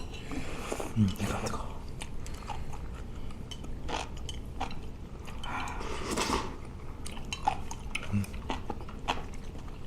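Someone eats spicy, numbing malatang, with wet chewing, slurping and biting sounds close up and continuous, while muffled speech and small clinks run underneath.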